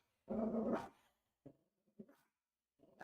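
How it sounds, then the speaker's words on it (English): A pet dog barks in a home, with one long loud burst followed by three short, sharp barks spaced about half a second apart, close to the microphone and with no talking over them. "I'm sorry about my dog barking"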